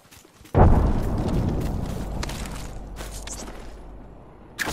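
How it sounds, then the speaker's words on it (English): A grenade detonating in the battle royale game Apex Legends, one loud, close, heavy blast with a deep rumbling tail that slowly decays over several seconds, followed by a short sharp sound at the end. "Grenade up!"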